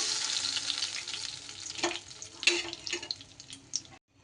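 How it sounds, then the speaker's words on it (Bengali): Fish fry in oil with a bright, crackling sizzle that swells and spatters in bursts, including a few sharper pops, before cutting off abruptly; no talking. "মাছগুলোকে কিন্তু ভেজে নিন।"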